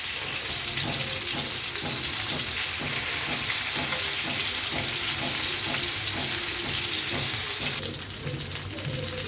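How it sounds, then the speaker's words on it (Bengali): Fish fry in a pan over low heat with a loud, continuous sizzle and busy popping of oil, holding steady throughout with no voices. "আস্তে আস্তে করে কড়া করে ভাজি করবো নিবু নিবু জালে ভাজলে মাছটা সুন্দর হবে"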